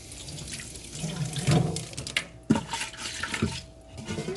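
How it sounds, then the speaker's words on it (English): Water splashes as a pot is rinsed out into a bowl, with a few bursts of pouring and sloshing and a sharp clink of the pot near the middle. "I'm just going to rinse the pot into the bowl"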